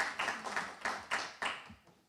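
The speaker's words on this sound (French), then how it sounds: "vois qu'il y a des applaudissements qui s'esquissent" Sparse claps from a small conference audience come as a handful of distinct, fairly faint hand claps in an uneven rhythm, without talk over them.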